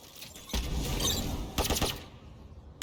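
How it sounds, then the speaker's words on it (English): In Valorant, Brimstone's Molly incendiary burns through Killjoy's turret, a dense crackling burst of fire followed by a second sharp flurry of pops as the turret breaks, then quiet. "you cannot destroy Raze's Boombot with a Molly, but you can destroy Killjoy's turret"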